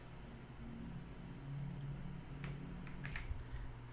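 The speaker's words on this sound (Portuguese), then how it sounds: "Vamos mover com as setas do teclado." A computer keyboard's arrow keys are tapped a few times: faint, brief clicks over a low steady room hum, with no speech.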